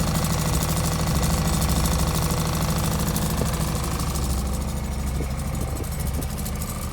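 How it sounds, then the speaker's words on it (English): A hybrid diesel generator starting up: a steady, loud engine drone with a rattling, knocking rumble runs throughout, close by. "So you can hear the generators come on."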